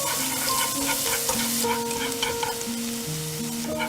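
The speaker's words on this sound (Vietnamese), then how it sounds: "Cho hành tím và tỏi vào phi lên." Steady, close sizzling and crackling of shallots and garlic frying in hot oil, continuous throughout, with a melody playing faintly underneath.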